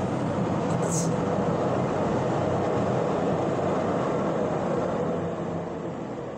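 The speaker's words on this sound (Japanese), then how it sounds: "まあちょっと今電車が通ってたのでね、" A train passing near an outdoor spot as a loud, continuous rumble and rushing roar that fills the clip and slowly fades toward the end.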